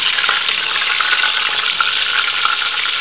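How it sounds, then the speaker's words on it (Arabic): Chicken pieces frying in oil give off a steady, close crackling sizzle with no talk, broken by a few faint clicks that could be a utensil touching the pan. "ونحطوا هذاك الطريف تاع الدجاج يتقلى"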